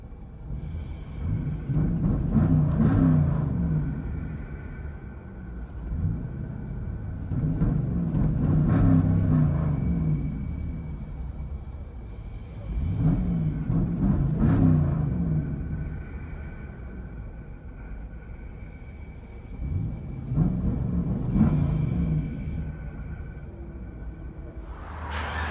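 Heard from inside the cabin, a 2019 Jeep Grand Cherokee Limited X with a 5.7L HEMI V8 and mid muffler delete swells in deep, rumbling exhaust surges about four times, easing back to idle in between.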